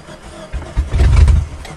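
A 1994 Tracker engine is started cold, cranking and catching in a short, rough burst of low rumble close by that swells for under a second before easing off.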